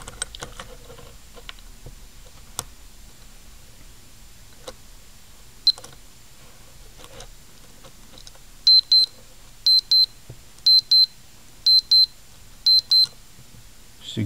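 Electronic ChN-04 alarm clock sounding its alarm: after scattered faint clicks and handling taps, high bright beeps come in short repeated bursts, grouped in a steady pattern, close and clear.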